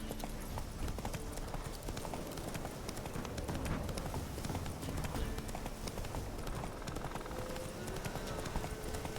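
Hooves of Roach, Geralt's horse in The Witcher 3, clip-clop steadily along at a brisk trot, loud and continuous, with a faint whinny-like tone and light speech under the rhythmic hoofbeats.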